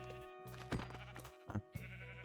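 A sheep in the Minecraft video game bleats in short nasal cries, two or three close together over a low steady background hum.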